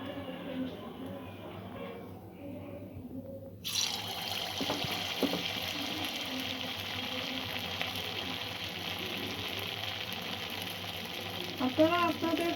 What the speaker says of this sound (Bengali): এবার এই মিশ্রণ থেকে ছোট ছোট বলের মতন তৈরি করে বড়ার মতন করে ভেজে নেব